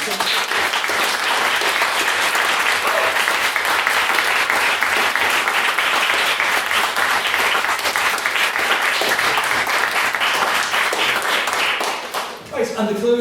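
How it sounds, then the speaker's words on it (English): A debate audience gives a dense, loud round of applause after a maiden speech, sustained for over ten seconds before tapering off abruptly near the end. "can I ask that you all give Schroeder another round of applause for her maiden speech?"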